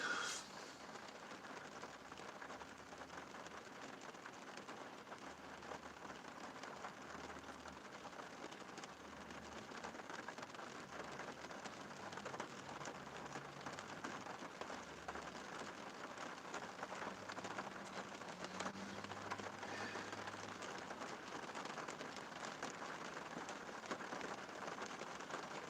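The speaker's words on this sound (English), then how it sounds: "This rain would shut up." Steady rain falls outside, a constant hiss of drops on surfaces heard from indoors at low level with faint low rumbles underneath and no break over the whole stretch.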